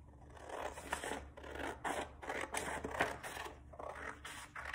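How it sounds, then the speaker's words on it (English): Scissors snip through a half sheet of creased paper along its fold for a kids' woven basket craft, a close, quiet series of repeated cuts in an uneven rhythm. "I'm gonna get my scissors and I'm gonna cut"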